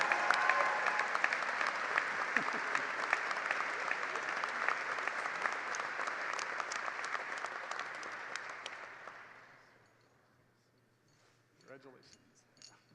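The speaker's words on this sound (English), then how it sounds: "you can applaud while he's coming up on the stage if you like." Commencement audience at a university engineering graduation applauds steadily and loudly for about nine seconds, then fades to near silence with a faint voice at the end.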